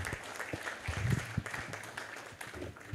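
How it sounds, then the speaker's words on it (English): Audience clapping after a talk at the Kilifi County Annual Health Scientific Symposium, moderately loud and uneven, with a few mixed-in voices or murmurs. "Another round of applause."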